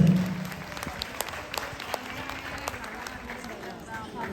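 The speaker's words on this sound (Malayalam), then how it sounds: "നല്ലൊരു കൈയടി കൊടുത്ത്" A wedding crowd claps together in a dense burst of applause that starts loud and thins gradually, with voices mixed in beneath the clapping.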